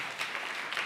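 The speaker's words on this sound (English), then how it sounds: "And have another round of applause for our dads." A church congregation applauds the dads with a short, dense, steady burst of clapping from a crowd, heard at moderate distance, with no talk over it.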